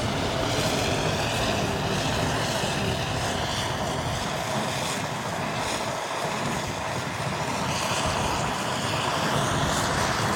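A forage harvester engine on a Fendt roars steadily and loudly during silage work, a dense, unbroken mechanical drone with no voices.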